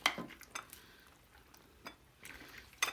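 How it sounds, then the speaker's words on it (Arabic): A spoon stirs cream through an Om Ali mixture in a dish, giving a few soft scraping strokes and clinks of metal against the dish, close and fairly quiet, with no talking. "وترجعي بقى ايه تقلبيها بقى كلها كده في بعضها كده"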